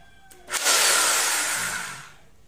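An Ingco rotary hammer drill whirring steadily for about a second and a half after a brief start-up, fairly close and alone without talk.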